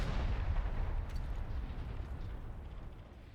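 Frag Bomb grenade blast in Warhammer 40K: Darktide: one big, loud, low explosion rumbling at the start and fading into a long, dense roar with some crackle over about three seconds, with no speech.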